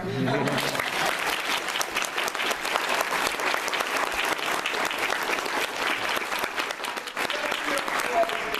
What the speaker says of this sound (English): if you guys could clap a little harder